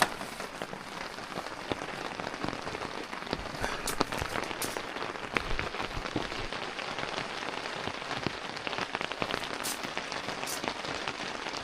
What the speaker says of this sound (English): See it dripping just straight through it